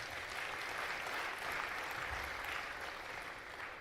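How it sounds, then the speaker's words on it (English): Steady, sustained audience applause at an EmpowaMen event, a dense wash of clapping that holds at an even level throughout with no talk over it. "One more round of applause."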